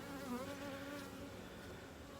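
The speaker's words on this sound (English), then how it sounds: "She's a brand new bee." A newly emerged honeybee buzzes close to a beekeeper at an open hive, a soft, steady drone that wavers slightly in pitch and runs without talk.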